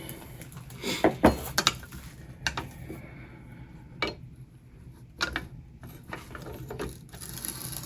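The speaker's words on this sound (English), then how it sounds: "for me to unscrew it with just the tool" Metal clicks and ratcheting clanks from a tool unscrewing the barrel of a Colt M16A1 rifle, a few sharp close bursts separated by quiet pauses.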